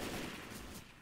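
A dense burst of gunfire from the zombie shooter game Left 4 Dead 2, with rapid overlapping shots that fade slightly toward the end.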